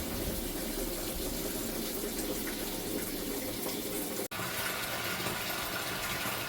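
Water pours steadily into a garden pond, making a continuous broad rushing gush with one brief dropout partway through.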